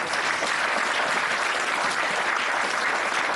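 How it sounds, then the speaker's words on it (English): An audience at a West Midlands Police BAPA Diwali celebration applauds: dense, even clapping from a crowd, loud and sustained for the whole stretch with no gaps. "Please also give welcome applause"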